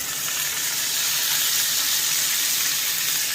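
Bacon tossed back into a pan of crisped potatoes, giving a loud, continuous close-up sizzle of frying fat with no break and no talking.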